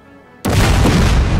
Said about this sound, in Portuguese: esses canhões são bons demais